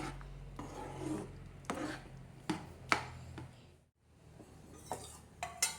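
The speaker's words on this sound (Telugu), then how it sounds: "ఇలా ఈ పాకం అయిపోయిన దాకా పోసుకుంటూ తిప్పుకుంటూ ఉండాలి" Ladle scraping and rasping against a pan while cornflour halwa with ghee and sugar syrup is stirred, with repeated broad scrapes and knocks and a brief pause in the middle.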